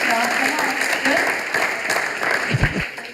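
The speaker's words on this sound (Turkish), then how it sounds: "Evet alkış alkış." Audience applause at a Turkish comedy-music stage show, a steady dense crowd clapping that fills the moment, with voices talking over it and a few louder close thumps near the end.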